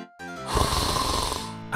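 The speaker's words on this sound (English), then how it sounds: "Are you snoring?" A vampire snores loudly in a video game, one long drawn-out rasping snore, close and dominant with no talk over it.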